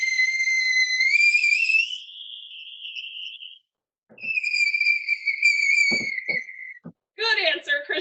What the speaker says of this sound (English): we know that that whistling noise happens because that gas is expanding inside the container